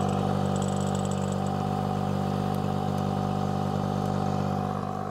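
A boat motor idles steadily during a saltwater flush, throttle eased back, giving a continuous loud rumbling drone with a faint clattering texture and no pauses or talk.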